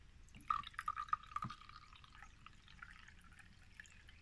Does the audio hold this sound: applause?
no